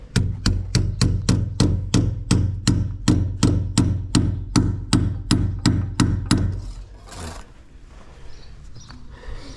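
Steady hammer blows ring out, about two or three per second, for roughly seven seconds, then stop, leaving faint background noise.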